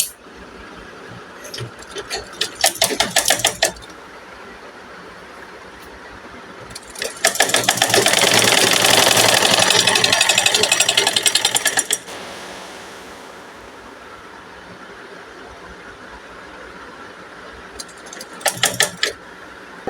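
A sewing machine stitches a seam down the middle of fabric for a two-year-old child's garment, in three rapid mechanical bursts: two short ones and one longer run of about five seconds, with quiet handling between them.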